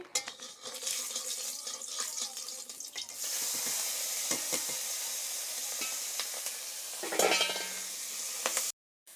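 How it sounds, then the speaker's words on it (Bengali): Salted fish fry in hot oil with a continuous close sizzle and bubbling, a burst of louder spattering near the end before it cuts off abruptly. "তেল দিয়ে দিচ্ছি নোনা মাছগুলো ভেজে নিচ্ছি"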